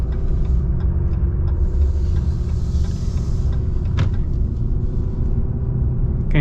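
A Ram Rebel Lunar Edition pickup with a standard-output Cummins diesel drives along with a steady, loud low rumble. A brief click-like transient cuts in near the middle, and no one talks.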